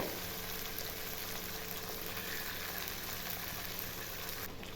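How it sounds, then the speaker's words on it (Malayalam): Marinated sardines with curry leaves frying in hot oil, a steady dense sizzle and crackle that stays even and fairly quiet throughout, with no voices. "ഇനി ആ ഓയിലിലേക്ക് കുറച്ച് കറിവേപ്പിലയും കൂടി ഇട്ടുകൊടുത്തതിന് ശേഷം മിക്സ് ചെയ്ത് വെച്ച മത്തി മുഴുവനായിട്ടും അതിലേക്ക് ഇട്ട് കൊടുത്തിട്ടുണ്ട്"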